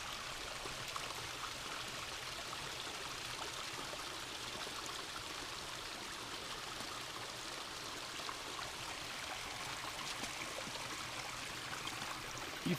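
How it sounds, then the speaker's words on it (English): A small waterfall feeding a stream at a campsite, rushing in a steady broadband wash at moderate distance, continuous with no voices. "It is a pretty neat little waterfall right here."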